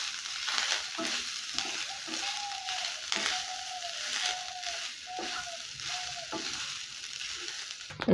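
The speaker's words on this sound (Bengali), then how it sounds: "ভেজে নেব একটু।" Boiled coconut fries in a pan with whole cumin, a loud continuous sizzle with rhythmic stirring scrapes of the utensil throughout, no voices.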